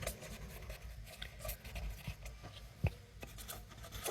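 Writing on a board during a grammar lesson, a faint, soft scratching and rubbing that comes in short strokes, with a brief sharper tap near the end.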